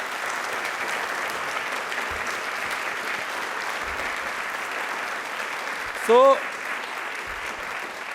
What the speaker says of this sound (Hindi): एक बार वापस से बाबा साहिब के लिए तालियां प्लीज जोरदार हो जाएं।